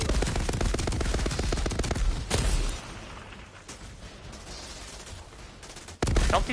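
Gunfire from the Outriders Pyromancer demo rattles in rapid bursts of shots up close, then drops to quieter scattered noise before a loud burst returns at the end.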